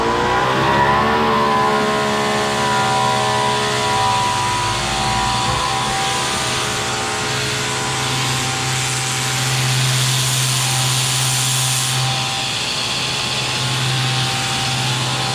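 A Greenworks 2300 electric pressure washer, hooked up to a water supply, runs with a loud, steady motor whine and hum that holds evenly throughout.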